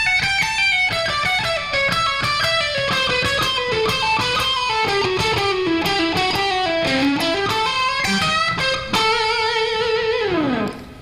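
Rapid picked notes climb and descend through an invented scale pattern on an electric guitar, a fast continuous run of bright effected tones ending on a sliding bend, played alone.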